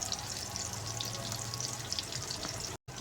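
Garlic ginger paste frying with tomatoes, potatoes and radish pods in a pan, a soft continuous sizzle with faint bubbling, cut by a brief dropout near the end.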